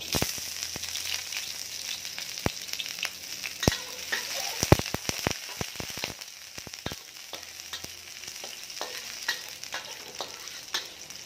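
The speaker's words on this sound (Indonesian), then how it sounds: "Kita masukkan minyak, masukkan bawang merah, bawang putih" Shallots and garlic fry in hot oil for an Indonesian stir-fried vegetable dish, a steady close sizzle broken by frequent sharp spatters and stirring scrapes, with no talking.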